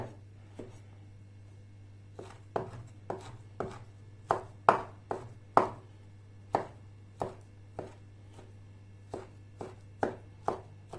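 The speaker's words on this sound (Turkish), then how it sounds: "Şöyle ince ince kesiyoruz." A knife slicing lamb fat thinly on a board, a steady run of crisp, separate chops at an uneven pace, close and clear over a low background hum.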